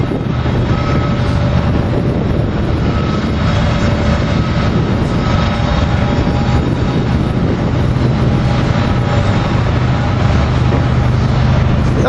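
An Amtrak P42DC diesel locomotive pulls out of 30th Street Station, a steady loud engine rumble with a faint whine mixed into broad outdoor noise, unchanging throughout.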